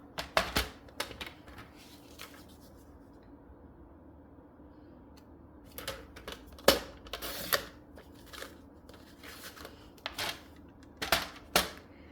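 Cardstock for a Stampin' Up! sunflower embossing project being cut in half, heard as crisp, close snips and clicks in irregular clusters with quiet stretches between, no talking.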